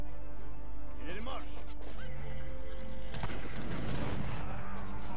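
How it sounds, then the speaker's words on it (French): A heavy cannon blast booms partway through in the video game Age of Empires III, followed by rumbling over constant busy game noise and chatter. "Ah mais c'est le canon!"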